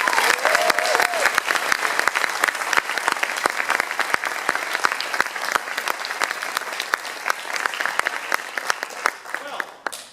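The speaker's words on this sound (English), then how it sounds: "Please give her another round of applause." A concert audience at a school orchestra performance claps for a young performer, steady close applause that slowly thins and fades near the end.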